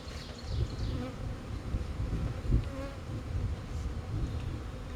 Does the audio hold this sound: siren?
no